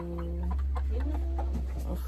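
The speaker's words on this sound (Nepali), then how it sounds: "कुखुरा तर्सेर एकदम आज यहाँ भागेको भागै गर्दैछ कुखुराहरू" Chickens cluck nearby in short, agitated bursts over a steady low hum.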